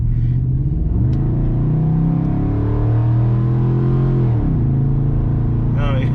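A 2007 Ford F150 with a 4.6 V8 revs hard on the throttle, the engine note climbing and holding high before dropping back, loud and close throughout.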